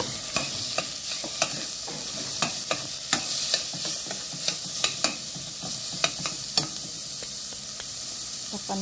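Garlic and sliced chicken frying together in a pan for sopas, a loud close sizzle punctuated by regular utensil taps and scrapes as the pieces are stirred, with no voices.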